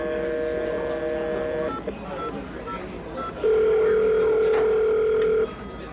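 A vintage telephone is dialed at a computer festival: a series of touch tones, then a long steady tone, with voices talking faintly in a busy hall around it.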